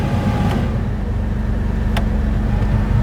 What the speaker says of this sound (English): now the blower comes on.